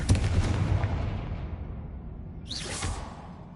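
A Confringo blasting spell in Hogwarts Legacy fires twice: a heavy whooshing boom that rumbles and fades, then a second sharp magical burst with a swishing flare, loud and close.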